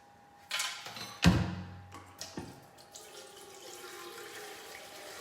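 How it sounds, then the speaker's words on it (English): Tap water filling the base of an Almond Cow milk maker in a kitchen, starting with a few clunks and a splashing gush, then settling into a quieter steady trickle. "And then you're gonna fill this with water."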